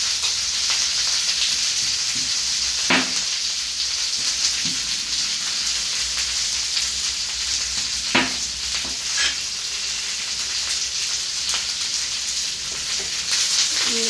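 Crushed garlic sautéing in a pan for a South Indian curry leaves thokku, a steady soft sizzle with occasional sharp stirring clicks, close and moderately quiet, no voices.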